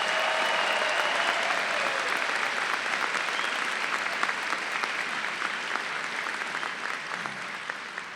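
A large audience at a university winter undergraduate commencement ceremony applauds families and friends, a thick, even wash of clapping that carries on steadily for eight seconds with little else heard.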